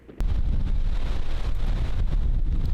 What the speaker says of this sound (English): You can hear that wind ripping